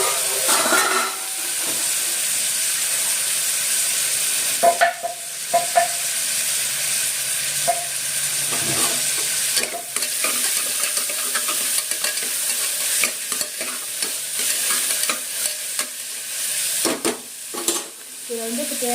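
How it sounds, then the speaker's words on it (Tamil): Chopped tomatoes and spices sautéing in a pan for a keerai rice dish, a steady bright sizzle and hiss with intermittent scraping stirs and clinks, close and continuous, with no voices. "இதெல்லாம் போட்டு நல்லா வதக்கிக்கலாம். கட் பண்ணி வச்சுருக்க தக்காளி,"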